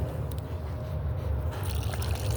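Water being poured out for a horse to drink: a steady, moderately loud trickling and filling sound that runs unbroken for a couple of seconds with no voices.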